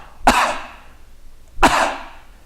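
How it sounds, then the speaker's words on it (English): Two sharp, close coughs, spaced about a second and a half apart. "you cough"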